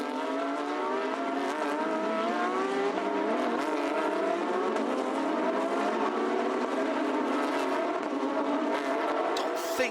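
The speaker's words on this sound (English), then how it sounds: "their formation lap now." Porsche Carrera Cup race cars, including a 718, run their formation lap at Zhuzhou as a continuous droning engine pack with shifting pitch, heard under steady commentary.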